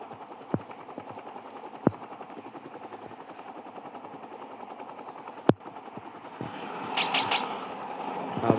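Helicopter in the video game Rope Hero, a steady rotor drone running throughout with a few sharp gunfire-like cracks and a brighter burst of mechanical noise near the end.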